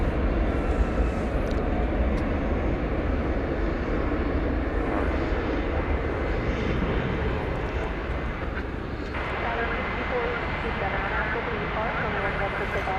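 Aircraft at DFW Airport at night, a loud continuous engine roar filling the whole stretch, steady with a slight change in tone partway through.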